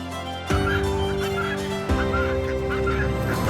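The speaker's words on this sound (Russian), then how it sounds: "а к ним бежит, тряся жирком, стадо гусей." Geese on a farm in Albania honk loudly and continuously, several birds calling over one another with a steady low hum beneath, close by.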